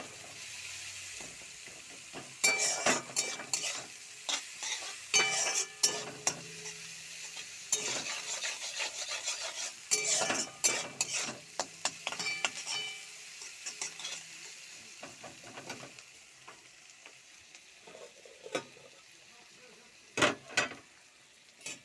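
Onions frying in a pan with a little salt, stirred in repeated scraping bursts over a low steady sizzle, with brief pauses and a couple of sharp clatters near the end.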